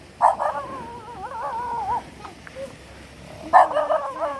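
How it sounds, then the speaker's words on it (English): A dog near Maaslum twin falls in Ayungon, Negros Oriental, Philippines barks in two sharp bursts with whining yips in between, close and loud, against a quiet outdoor background. "We got a killer dog."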